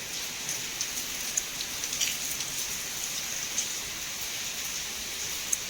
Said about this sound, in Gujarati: મસ્ત વરસાદ ધીમો ધીમો આવે છે